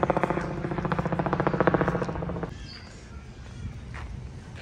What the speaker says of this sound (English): Every time there is a helicopter which is moving around.